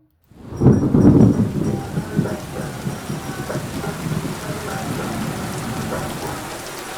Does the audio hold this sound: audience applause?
no